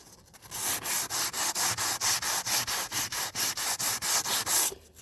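Sanding strokes on the wooden deck of a boat, worked along the port side: a steady run of about fifteen quick, even rasping passes, close and loud, with no talk.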